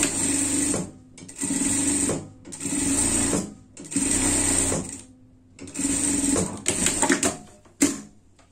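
A sewing machine stitching a seam on a pet frog costume, loud steady whirring runs in about five bursts separated by short pauses, ending in brief stuttering stitches.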